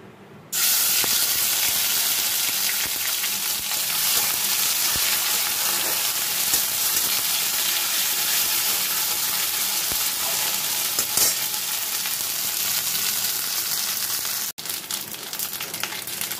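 Ginger and green chilli paste hits hot oil in a pan and sizzles loudly and continuously, a dense steady frying hiss up close that cuts off briefly near the end.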